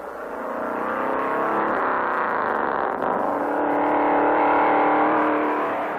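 A 1950s stock race car accelerates hard on a qualifying run, its engine a loud, steady, rising roar that swells and holds for several seconds with no voices.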